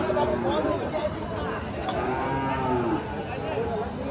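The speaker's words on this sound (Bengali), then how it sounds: "এখানে ফ্রিজিয়ান দেশি সব জাতের গরু আছে" Cattle, Friesian and local breeds, moo repeatedly with long drawn calls at a busy cattle market, over steady crowd chatter and people talking nearby.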